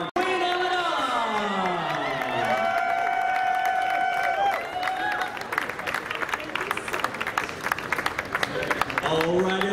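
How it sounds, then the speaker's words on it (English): Crowd applauds and cheers at a Star Wars Rogue One costume contest at the TCL Chinese Theatre, a loud sustained wash of clapping and whoops, with voices calling out over it throughout. "And a big round of applause for David!"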